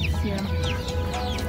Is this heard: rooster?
yes